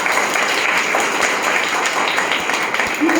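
Applause from a training-course audience at Rang Puri, Mahipalpur, a steady wash of clapping that stays dense and moderately loud throughout the short stretch, with a faint background voice near the end.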